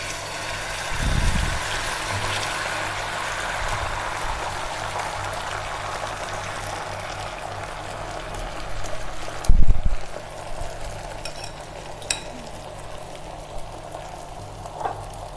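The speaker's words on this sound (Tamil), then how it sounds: "இப்போ நம்ம அடித்து வச்சுருக்க முட்டையை இதில் ஊற்றலாம்" Beaten egg poured onto an oiled hot dosa griddle for a stuffed omelette sets off a steady frying sizzle, broken by a few dull knocks near the start and in the middle.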